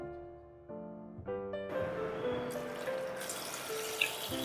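Clear water runs into a small cooking pot with herbs and chicken in it. The sound starts as a rising tone as the pot fills, then settles into a steady close splashing stream, fairly quiet, with no talking.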